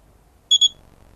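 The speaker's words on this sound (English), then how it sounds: "we can also hear a beep there" A short electronic beep from an OrangeRX OpenLRS module fitted in a radio-control transmitter, heard as two quick bright tones close together, clear and alone against a quiet room.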